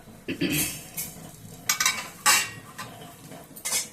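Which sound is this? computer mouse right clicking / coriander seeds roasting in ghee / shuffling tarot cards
coriander seeds roasting in ghee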